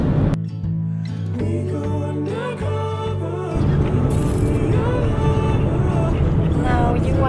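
A car rolls along on a long road trip, its low steady rumble filling the cabin beneath excited voices and what sounds like singing.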